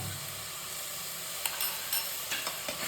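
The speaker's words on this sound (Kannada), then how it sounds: "ಮತ್ತು ಸ್ವಲ್ಪ ಅದನ್ನು ಕೆದಕೋಣ" Channa masala being stirred in a frying pan after garam masala, salt and sugar go in, giving a steady close sizzle with occasional scraping stir strokes, no talking.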